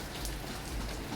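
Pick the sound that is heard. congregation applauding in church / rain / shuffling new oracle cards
rain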